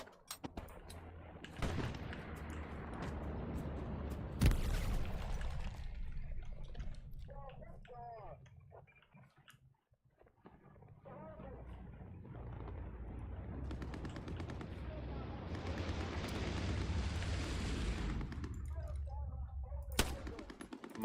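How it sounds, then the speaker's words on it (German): Gunfire in a World War II video game: bursts of machine-gun fire and single sharp shots, some loud and close, others more distant, over rumbling battle noise, with voices talking at times. "wir werden beschossen."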